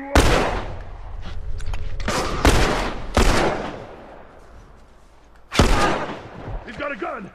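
Loud gunfire in The Last of Us, with four or five booming shots spread unevenly across the stretch, each trailing off in a rumbling echo amid steady background game noise and some talking.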